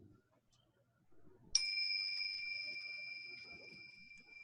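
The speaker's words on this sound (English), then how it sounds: "It is a Tibetan bell." A Tibetan bell is struck once and rings with a clear, sustained metallic tone that fades slowly over several seconds, heard alone after faint background noise.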